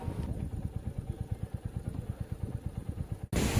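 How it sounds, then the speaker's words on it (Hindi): A motorcycle engine idles with a steady, rapid low thump while being parked at a cold lakeside spot on a mountain route in Sikkim, then cuts off abruptly near the end into open wind noise. "मैं बाइक ज़रा देख लूँ, पार्क कर लूँ"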